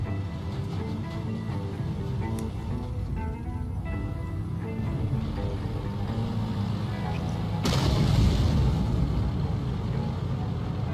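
Rumbling tank engine noise in World of Tanks fills the scene, broken by a sudden heavy blast of artillery fire partway through, its boom lingering over the constant drone.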